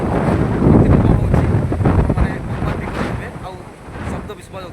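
Strong cyclone wind buffets the microphone in the Rayagada area, a loud continuous roar and rumble that surges and eases over several seconds, with broadband gusty noise and no clear talk.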